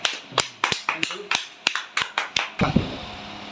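Students clapping at a Teachers' Day school celebration: about a dozen sharp, separate claps in an uneven rhythm, close and crisp, followed by a voice starting to speak.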